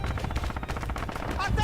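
Gunfire rattles in the Red Orchestra 2 video game, a quick run of loud overlapping shots landing a headshot, with a voice faintly audible near the end.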